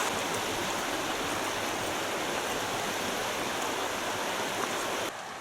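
River Tees in upland Teesdale rushing over scattered boulders beneath steep slopes and crags, a steady full broadband roar of flowing water, close and continuous, easing slightly at the end.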